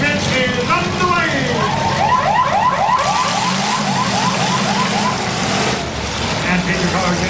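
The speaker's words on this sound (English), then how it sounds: "Sound the siren, the feature event is underway!" A warbling siren wails repeatedly to start the feature race at a county demolition derby, rising and falling over loud engine noise and crowd sound, with a voice talking over it.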